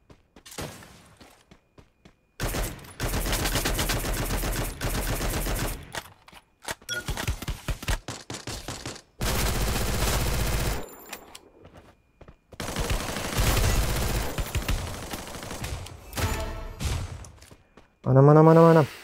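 Loud bursts of automatic gunfire in a Free Fire battle royale match, several long rattling volleys broken by short silences, ending with a brief tonal sound effect.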